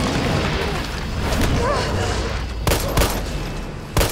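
Gunfire in the video game Resident Evil 3, a few sharp shots cutting through a busy game soundscape of ambience and effects.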